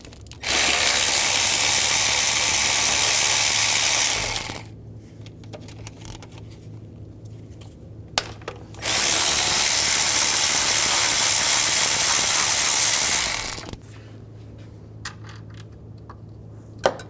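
Bolts being removed from the intake manifold of a 2003–2013 Toyota Matrix: two long, loud bursts of a power tool spinning, each several seconds, separated by quiet gaps with small metallic clicks and taps.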